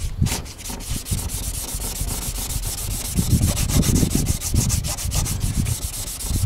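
Hand polishing of new plastic car bumper trim with LAVR plastic restorer, a steady close rubbing and wiping sound with rhythmic strokes throughout, alone without voices.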